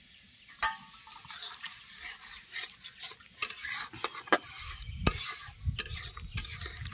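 Tamarind water is poured into a Bengali sour vegetable curry and stirred in the pot, giving scraping utensil strokes and clinks against the pan with a soft watery sizzle, close and intermittent, with no talking.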